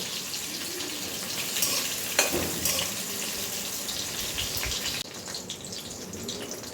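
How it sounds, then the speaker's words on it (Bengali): Steady hiss of pointed gourd frying in oil, a continuous sizzle with occasional clinks and scrapes of stirring, close and fairly loud throughout. "পটলগুলো একটু ভেজে নিচ্ছি"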